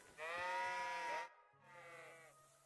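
A sheep in the video game Kingdom Come: Deliverance II gives a loud, wavering bleat, then a second, quieter bleat after a brief pause, both close and clear.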